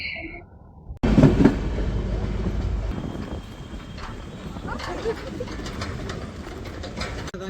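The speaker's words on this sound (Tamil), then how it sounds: "நாங்கள் ரயில்வே ஸ்டேஷன் வந்துட்டோம்." Busy railway station ambience with a low rumbling train, pigeons cooing nearby and indistinct voices in the background.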